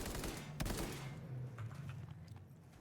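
Gunfire exchange in a ray-traced video game: a loud burst of rapid overlapping shots near the start, followed by scattered fainter reports trailing off over a low steady hum.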